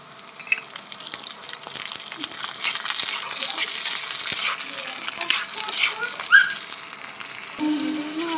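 Green peas fry in a pan with a steady sizzle as a utensil scrapes and clinks through the stir, with a sharp metallic knock near the end and a faint voice in the background.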